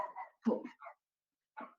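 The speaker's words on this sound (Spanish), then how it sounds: "¿escuchan el ladrido mucho?" A pet female dog gives a few short, close barks in two quick bursts and then a final single bark after a pause, in an otherwise quiet room.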